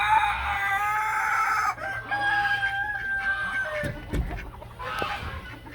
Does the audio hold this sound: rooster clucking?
yes